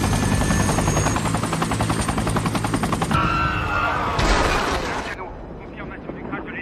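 A helicopter crash in an action film: loud, dense rotor chopping mixed with gunfire-like bursts and rumbling impact noise, then a sharp cutoff into a fading low rumble.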